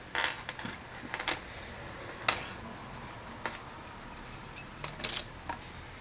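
Keys worn on a neck chain jangle in short, bright metallic clinks and rattles, close and intermittent, with one sharper clack partway through.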